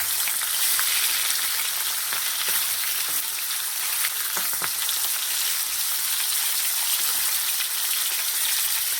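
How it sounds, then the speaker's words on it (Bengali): Food frying in a pan with a steady, dense sizzle and crackle that holds at an even level throughout, close up, with no voices over it. "ভালো করে ভেজে নেব।"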